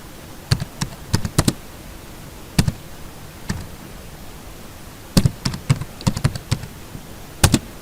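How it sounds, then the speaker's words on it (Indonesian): Typing on a computer keyboard: sharp, close key clicks in short irregular bursts, separated by pauses and set against a steady soft hiss. "Kita ketikkan dulu"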